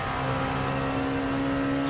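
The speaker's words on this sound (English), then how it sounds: "I just heard the engine getting louder." A race car engine in the Daytona 24 Hour racing video game gives a steady, droning tone with no talking, rising slightly in loudness near the end.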